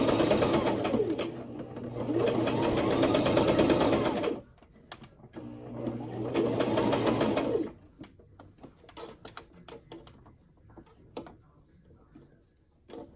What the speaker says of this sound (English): sewing down the other side